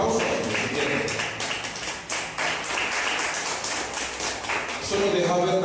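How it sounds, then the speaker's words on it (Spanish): A church congregation claps during a sermon, giving scattered, uneven applause at moderate volume, with the pastor's voice returning as it fades. "Un aplauso."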